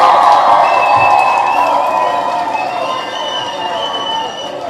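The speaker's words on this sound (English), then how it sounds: "You all deserve a huge round of applause." Crowd cheering and applauding at a rally, a loud continuous wash of voices and clapping that fades slightly toward the end, with shouts rising above it.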